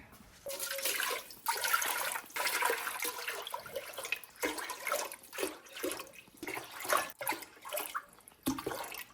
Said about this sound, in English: just heat it up and throw a bunch of water in it